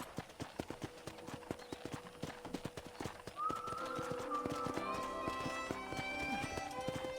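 Hoofbeats of a horse clip-clop rapidly into a gallop in the western video game Red Dead Redemption, close and rhythmic, with a whinny partway through and bright game music rising underneath.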